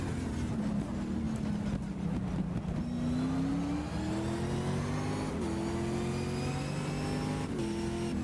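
Race car engine in GTR 2, 2003 FIA GT at Barcelona, revving steadily with a rising whine through the gears and short dips at each shift, loud and close throughout.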